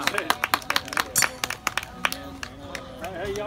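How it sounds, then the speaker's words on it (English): Small group clapping after a fire-making demonstration at a survival skills class, scattered uneven claps close by, thinning out as voices talk over them. "An applause. Thank you, for the fire."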